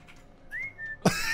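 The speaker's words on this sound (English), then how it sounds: "Whistle." A single rising then level whistle from a character in the stealth video game Alekhine's Gun, fairly clear and moderately loud, followed by a sudden burst of game noise.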